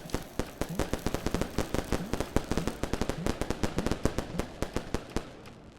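Firecrackers exploding in the video game Animal Well, a rapid continuous string of sharp pops crackling for several seconds.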